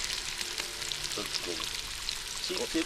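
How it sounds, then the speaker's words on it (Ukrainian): Onions sizzle and crackle in hot fat in a pot over a campfire, a steady soft frying hiss with small pops, quiet and close. "Оце тепер цибулю ми підсмажимо, вона стане такого золотавого кольору"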